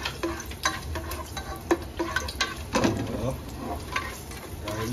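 Garlic frying in preheated oil and being stirred, with soft sizzling and irregular scrapes and taps of a utensil against the pan, close and moderately quiet.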